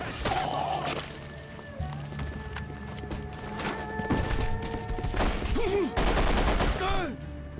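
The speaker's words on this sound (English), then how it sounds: "I probably should stay here until the gunfire stops" Rapid bursts of gunfire in the video game The Punisher crackle over a dense, busy game soundscape with tonal effects and a few brief voices.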